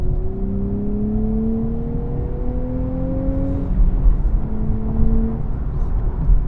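Nissan Z Performance sports car with a manual gearbox, driven with a deep engine drone that climbs in pitch through repeated gear pulls, loud and close amid steady road and wind rumble, with no talking.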